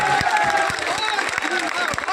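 Crowd applause at a political rally in Kolaras, a dense wash of clapping that holds steady for a couple of seconds, with a few louder claps standing out.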